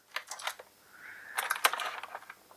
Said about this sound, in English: So let's slice that tape first.